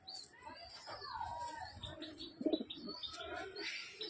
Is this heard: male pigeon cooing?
yes